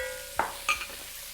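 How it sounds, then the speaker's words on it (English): Onion drops into a hot pot for a seafood boil and gets stirred, giving a soft thud and a couple of short scraping stir sounds over a faint steady sizzle, close and brief. "Now we're going to add in our onion."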